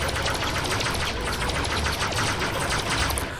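Rapid, continuous bursts of blaster fire in a Star Wars mod for a video game, loud and dense, like an automatic weapon firing nonstop.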